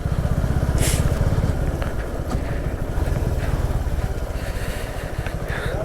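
A motorcycle engine runs steadily up close on a road near the Basukinath Dham temple in the early morning, giving a continuous low, rhythmic putter throughout with no talk.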